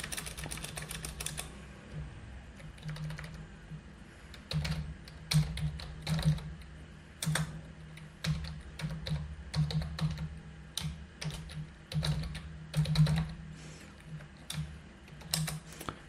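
Code typed on a computer keyboard: a fast burst of key clicks, then irregular clusters of close, crisp keystrokes with short pauses between them, without talk.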